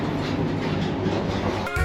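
Night Riviera sleeper train running toward Penzance, heard from inside as a loud steady rumble of wheels on rails with rhythmic clatter, then a short horn-like tonal blast at the end.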